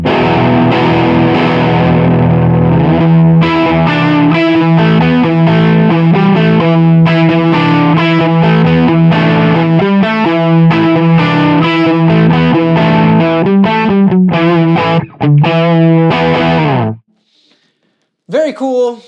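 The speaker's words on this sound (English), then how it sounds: "Let's see what a different boost sounds like." An electric guitar played through a Mesa Boogie Mark IV amp with a boost pedal rings out loud and sustained in chords and riffs for most of the stretch, then stops and leaves a brief faint tail.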